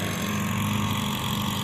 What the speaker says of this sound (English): what looks like a Cub Cadet lawnmower over there. Sounds like one